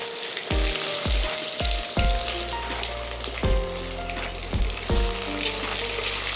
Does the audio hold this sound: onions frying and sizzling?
yes